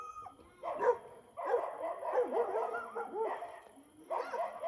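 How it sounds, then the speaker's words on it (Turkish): Several dogs yip and bark in bursts from a moderate distance, with whiny, overlapping calls and short pauses between them. "çok fazla köpek var"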